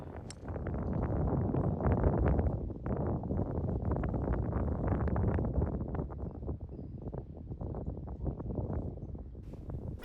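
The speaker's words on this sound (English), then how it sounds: "as you can hear, the wind is picking up" Gusting wind buffets the microphone on a golf course, a loud continuous rushing roar with uneven surges that stays steady for the whole stretch, with no talk.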